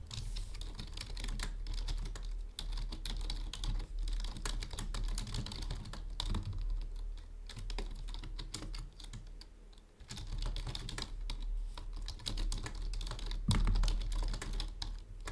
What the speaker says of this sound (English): the keyboard's like quite noisy